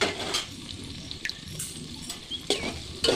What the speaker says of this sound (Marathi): कांदा आणि कोथिंबीर टाकून चांगलं परतून घेऊया